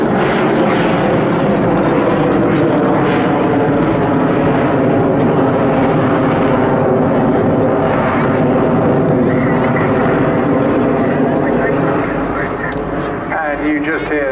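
A propeller aircraft makes a high-level departure at the 2023 Southport Airshow, a loud continuous engine drone holding steady then easing slightly near the end, with a commentator talking over it throughout.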